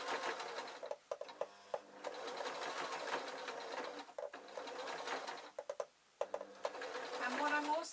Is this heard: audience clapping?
no